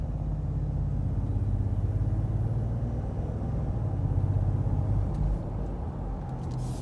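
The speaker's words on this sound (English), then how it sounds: "Do one last little driving normally here to see how the transmission shifts, see what gears it goes through." Cabin of a 2021 Ford Expedition Limited Stealth Edition driving normally, with a steady low engine and road rumble that swells slightly as the transmission moves through its gears; no voices.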